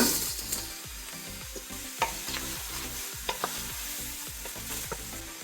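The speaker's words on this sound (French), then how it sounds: "Je remets un peu d'huile. Et là, j'attendris les légumes." Vegetables softening in a little oil in a pan for a spaghetti sauce, a soft continuous sizzle with scattered light scrapes and clicks of a utensil, close and quiet, without speech.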